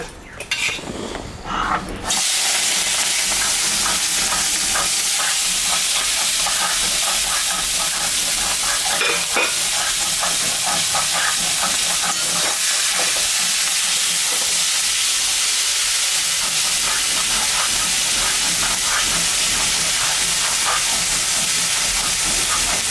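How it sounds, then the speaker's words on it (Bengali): Fish seasoned with salt and turmeric fries in a pan, giving a loud, steady hiss and sizzle that runs unbroken for the whole stretch after a brief sharper burst at the start. "মাছে লবণ দিলাম, হলুদ দিলাম, মাছটা এখন আমি ভাজবো।"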